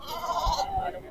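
At a sheep market in Banaganapalle, a sheep bleats twice in quick succession close by, over the background noise of the crowd.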